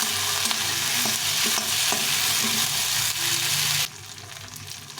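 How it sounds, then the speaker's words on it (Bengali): Tomato and onion for khichuri fry in a pan with a dense, loud, steady sizzle and light stirring knocks, with a faint hum underneath, before the sound drops abruptly to a quieter hiss. "এই টমেটোটা দিয়ে দিলাম টমেটোটাকে সুন্দরভাবে ভেজে নিতে হবে"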